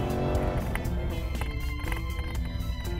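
A Chevrolet small-block 6.2-liter V8 race car roars steadily on a road course during a lap, engine loud and continuous with a high-revving drone and brief tire noise.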